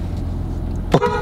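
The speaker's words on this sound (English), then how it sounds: "Beep at him." One short toot from the horn of a new Lexus car, heard from inside the vehicle over a low idling hum, close and brief.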